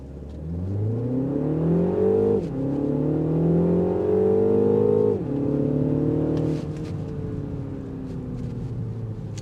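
A 2026 MINI Countryman S with a 241-horsepower engine accelerates on a test drive, its engine note climbing steadily through two gear shifts and then settling into a steady drone, loud and close with no talking.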